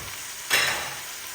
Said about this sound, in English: just mix everything together